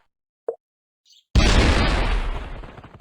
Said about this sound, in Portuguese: Opa, explodiu?